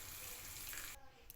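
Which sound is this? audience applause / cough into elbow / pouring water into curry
pouring water into curry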